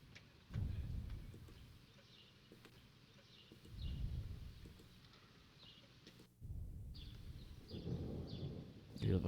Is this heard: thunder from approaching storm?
yes